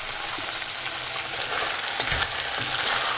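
Masala for a chickpea curry sizzles steadily in a pan, a continuous close frying hiss with faint stirring scrapes and no voices.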